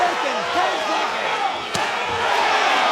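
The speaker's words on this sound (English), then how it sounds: "Tension from the crowd as round number 5 comes to an end." A boxing arena crowd roars and murmurs loudly as a round ends, with a sharp slap or thud cutting through the din and voices mixed into the crowd noise.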